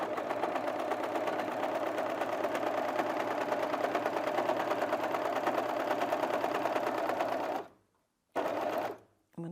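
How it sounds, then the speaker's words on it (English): An overlocker stitches and trims a cushion seam, cutting off excess fabric in one pass, with a steady fast loud mechanical whir running continuously before stopping abruptly, then brief restarts. "the other benefit of doing it on this overlocker is it's finishing the seam all in one pass, and it's cutting off all the excess fabric"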